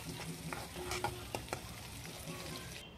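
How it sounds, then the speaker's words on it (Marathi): Onions and green chilies fry in a pan with a soft, continuous sizzle broken by several sharp clicks and scrapes of stirring, quiet and close with no talk. "त्याचबरोबर 2 ते 3 मिरच्या टाकून घ्यायच्या आहेत आणि छान असं फ्राय होऊ द्यायचं आहे।"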